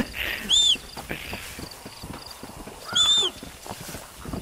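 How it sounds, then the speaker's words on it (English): Horse hooves clip-clop in Red Dead Redemption, a short run of light hoofbeats with two bright whinny-like calls, heard alone without talk. "I stole someone's horse."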